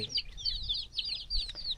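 Farmyard chickens kept by a rural household cluck and chirp in overlapping short calls, fairly close and moderately loud, alongside low background rumble with no talk.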